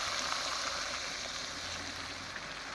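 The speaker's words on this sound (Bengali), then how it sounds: "জলটা দিয়ে দিলাম।" Water pours into a pan of curry as it cooks, a steady, soft rushing and gurgling stream that holds quietly at close range for the whole stretch.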